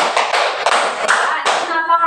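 A group claps in a classroom demonstration, a run of about five distinct sharp hand claps followed by a brief ringing tail, loud and close.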